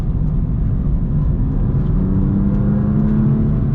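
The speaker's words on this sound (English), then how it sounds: "the mid-range on this engine is so good." A 2020 BMW M2 CS engine pulls hard through the gears, a loud, continuous close-up drone with rising pitch from inside the car and no talking.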